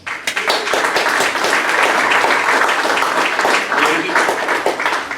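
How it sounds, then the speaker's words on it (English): A crowd at a village unveiling ceremony applauds the voluntary village association, a steady, loud round of clapping sustained throughout, with some voices mixed in. "I honestly think they deserve a round of applause"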